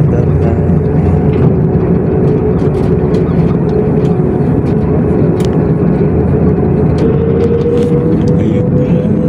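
Airliner taking off on a flight from NAIA Terminal 3 to Hong Kong, heard from inside the cabin as a loud, steady low engine roar with rising tone, continuous throughout with faint cabin clatter.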